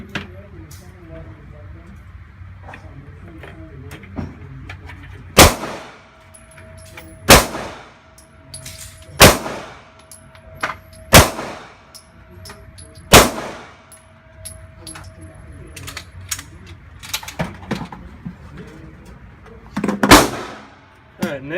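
Sharp gunshots ring out one at a time in a string of five rounds from a JC Arms firearm at a range, spaced about two seconds apart, each a loud close crack with a metallic ring.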